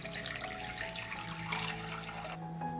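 Water poured into a cooking pot lined with a cloth and holding glass jars, a steady gurgling, rising fill that splashes close by and cuts off near the end, no talking.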